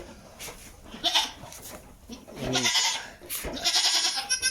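A newborn Boer crossbreed goat kid bleats just after birth in a series of short, wavering, high cries close by, separated by quiet handling noises.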